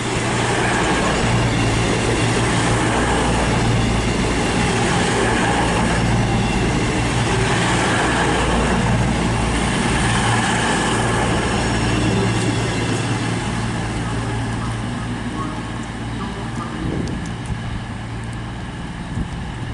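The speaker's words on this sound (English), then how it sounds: "departing now is the 1210 cross-country service from Leeds to Plymouth" Cross-country passenger train on the Leeds to Plymouth service departing Bath Spa station on the Great Western main line, a loud, steady rumble of engines and rolling wagons that holds throughout and eases slightly toward the end.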